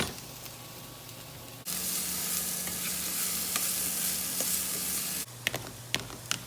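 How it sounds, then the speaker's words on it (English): Zucchini frying in a hot pan gives a loud, steady hiss that switches on abruptly, holds for several seconds, then drops back to a quieter sizzle with a few sharp clicks near the end; nobody speaks. "Quickly gonna cook this zucchini."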